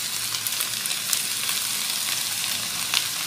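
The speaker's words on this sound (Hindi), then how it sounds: "लाइट गोल्डन होने तक फ्राई करें।" Chicken frying in a pan for a creamy Malaysian chicken dish, cooking until light golden: a steady, close, even sizzle of hot oil with small crackling pops throughout and no voices.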